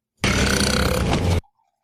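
A long, loud, guttural burp from the character Belch in the 2017 film It, one continuous belch of just over a second, heard alone with silence after.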